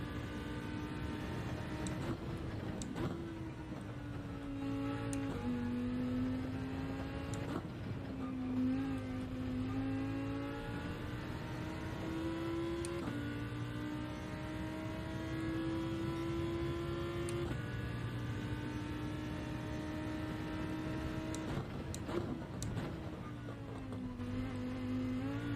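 Toyota Supra race car in a racing video game, its engine droning steadily with rising and falling pitch as it shifts through gears, continuous and fairly close throughout.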